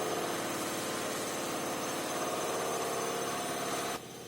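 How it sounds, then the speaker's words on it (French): Washing machine in its spin cycle, a steady fast rumbling whir with rhythmic vibration, fairly faint in the background, cutting off abruptly near the end. "j'ai ma machine qui se met en mode essorage"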